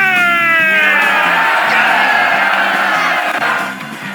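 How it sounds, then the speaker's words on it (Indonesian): Film-set extras in A Knight's Tale, a crowd of Czech speakers, raise a loud sustained cheer of many voices over rhythmic music, which fades toward the end. "Akhirnya Mark Eddy langsung sorak sendiri,"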